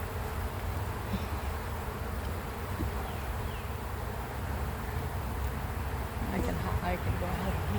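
Honey bees swarm and buzz steadily around an open beehive during an inspection, a dense, continuous close hum with occasional faint clicks and rustles.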